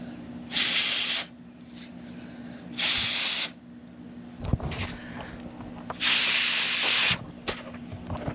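Compressed air blows a carabiner dry after cleaning, in three loud, sharp hissing bursts of about a second each, separated by quiet pauses with small handling clicks.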